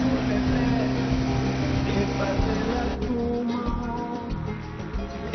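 A small ultralight aircraft's backpack-carried motor drones steadily and fairly evenly, a buzzing engine hum that eases a little toward the end, with faint voices in the background.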